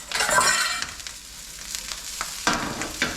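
Onions, peppers and cilantro cooking in a pan, a crackling sizzle with bursts of stirring and scraping, loud at first, then dipping before flaring again.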